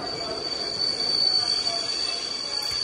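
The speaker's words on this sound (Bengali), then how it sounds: "ট্রেন থামল।" A train's wheels screech with a sustained, piercing metallic squeal over a heavy rumble as it brakes to a stop at Kharagpur Junction, loud and continuous throughout.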